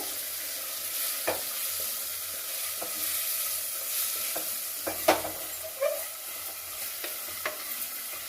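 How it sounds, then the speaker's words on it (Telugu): Carrots and masala frying in a pan for masala carrot pulao, a soft continuous sizzle broken by occasional spoon taps and stirring clicks, close and fairly quiet with no voices. "బాగా వేగాలండి ఇదంతా. క్యారెట్ కొంచెం బాగా ఉడకాలి."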